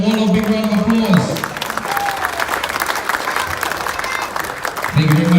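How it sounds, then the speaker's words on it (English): A crowd at the Fiji Bitter Marist 7s rugby tournament breaks into a sustained round of applause, with a voice speaking over the clapping at the start and again as it fades. "Let's give them all a big round of applause."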